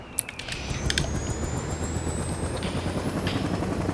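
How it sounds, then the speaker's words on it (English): Tornado helicopter in Saints Row, a continuous rotor and engine whir with a rising high whine and a few sharp bursts early on, no talking. "I did just get a new helicopter, so I'll use that. Tornado."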